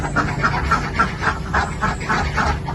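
Farmed ducks at a duck-rearing site in Pituruh, Purworejo quack repeatedly in a busy, overlapping chorus, with rhythmic calls rising and falling over steady background noise.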